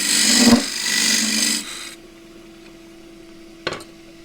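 Spindle gouge cutting a spinning wooden pagoda box on a lathe, a coarse scraping rasp for about two seconds, then quiet lathe hum with a brief knock near the end.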